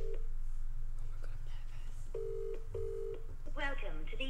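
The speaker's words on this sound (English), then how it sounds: "let's give Naz a call" A telephone dialing out for a call, several steady dial tones and beeps in a row, followed by a quick burst of rapid tones, against low background murmur.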